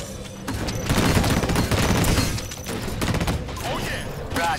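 Gunfire and an exploding core in the shooter game Disintegration: dense crackling bursts of rapid shots and booms, loud and close, swelling and easing over several seconds with voices briefly under the din.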